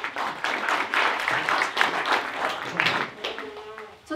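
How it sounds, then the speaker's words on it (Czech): Applause from a small audience, moderately loud and continuous, thinning slightly toward the end. "potlesk pro Matěje"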